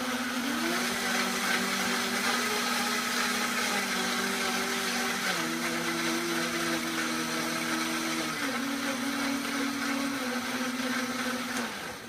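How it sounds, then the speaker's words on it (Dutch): A blender whirs steadily and loudly throughout, its motor pitch stepping up and down a few times as the speed changes. "Maar eerst Isaac Perelman op de blender."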